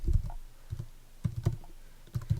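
Keys on a computer keyboard are tapped to enter a web address into a browser, giving quick clustered clicks in short bursts separated by brief pauses, fairly close and moderately quiet.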